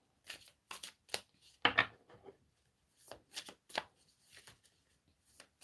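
Deck of Mystic Moon Oracle cards shuffled by hand in repeated short riffling bursts, close and fairly quiet, with pauses between bursts.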